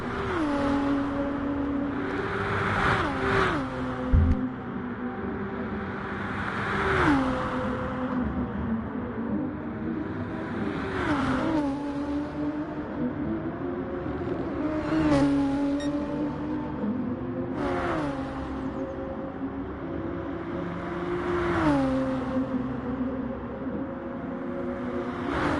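Race cars lapping La Sarthe in GT Sport during a multiclass endurance event, steady engine drone with rising and falling revs and periodic gear shifts, cars sweeping past every few seconds, fairly faint, no talk.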